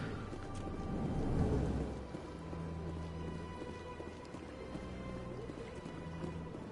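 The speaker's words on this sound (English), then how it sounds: "Sounds like it's raining here again." Steady, soft rain falls in the Mass Effect Legendary Edition video game, a diffuse hiss at low volume. Faint tonal ambience runs beneath it.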